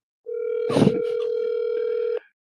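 A phone ringtone plays as a single sustained electronic tone with steady harmonics, lasting about two seconds, loud and close, then cutting off abruptly.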